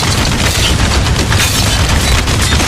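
Mortar fire during a battle in the video game Spec Ops: The Line, a dense, loud, continuous barrage of booming blasts and crackling gunfire layered without any clear pause.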